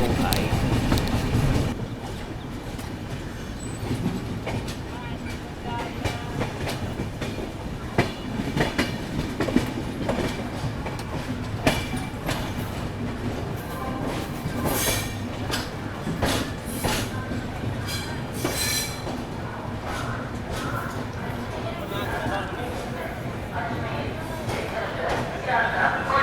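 A Vande Bharat Express, train number 22300 bound for Gaya, rushes past at high speed, a loud sustained roar with rapid clickety-clack of wheels over rail joints. It is heard from nearby on a moving train, with a voice talking over it.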